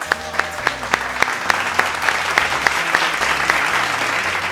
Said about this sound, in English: let's hear it with a thunderous round of applause